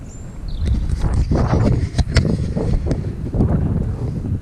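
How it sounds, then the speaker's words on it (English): Strong wind buffeting the microphone during a bike ride, a continuous low roar with gusty swells, loud and close, no voices. "Probably see how windy it is looking at those clouds up there."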